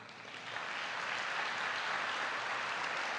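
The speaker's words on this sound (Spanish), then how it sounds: "Alguien dele un aplauso a Dios." A church congregation breaks into applause, a dense, even wash of many hands clapping that swells in within the first half second and holds steady, sounding somewhat distant and diffuse.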